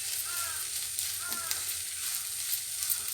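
Sago pulao sizzles steadily in a kadai as it is stirred, a bright continuous frying hiss with occasional scraping, close up, while someone talks over it.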